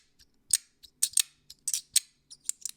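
Slider fidget toy mechanism without Teflon tape, snapping and sliding in sharp, crisp metallic clicks, about a dozen quick irregular strokes close up and isolated.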